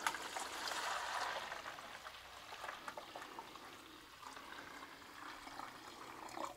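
Water runs steadily into the reservoir of an iGulu F1 beer brewing machine, a soft continuous trickle and pour with small splashy flickers, close by and fairly quiet, no talk over it.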